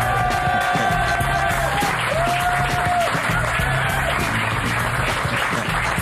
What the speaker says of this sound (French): je trouve que Julien Clerc a applaudi trop mollement à mes yeux